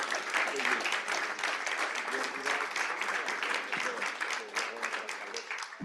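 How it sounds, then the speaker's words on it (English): An audience at a conference gives a panel a round of applause, steady dense clapping from a sizeable crowd sustained throughout, fairly close and even in loudness. "Please give them a round of applause."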